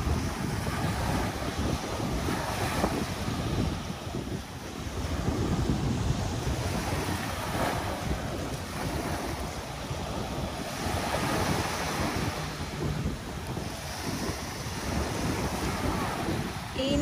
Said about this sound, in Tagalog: makikinig ka lang ng alon